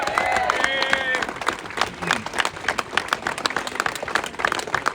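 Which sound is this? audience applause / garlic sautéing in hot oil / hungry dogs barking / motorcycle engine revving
audience applause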